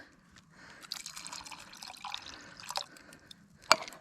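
At a camp stove, water is poured from an empty tomato can into a cooking pot, giving faint, uneven splashing and dripping with a few sharper drops and a clink near the end.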